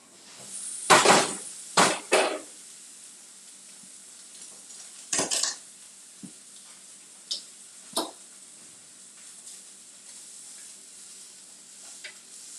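Sausage cooking in a pan is checked with a few close clattering scrapes and clinks of a utensil against the pan, separated by pauses over a faint sizzle.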